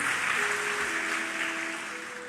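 A church congregation applauds during a sermon, a smooth, dense wash of many hands clapping at once that stays steady and only slightly fades toward the end, with a faint sustained tone underneath.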